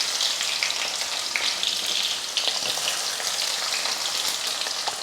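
Small shallots frying in hot oil with fenugreek seeds and curry leaves, a steady dense sizzle with faint stirring clicks, continuous and close throughout, no talking.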